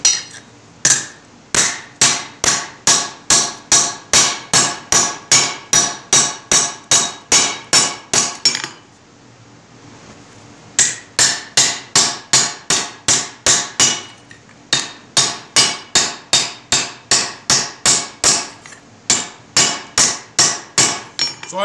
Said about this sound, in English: So I'm forming this into my swage block here.